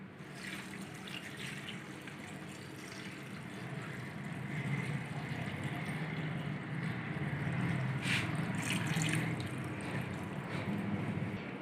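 About 1.5 litres of water pours into a cooking pot holding mutton trotters, turmeric, salt and whole spices for paya, making a steady rushing, splashing stream that runs unbroken for around eleven seconds.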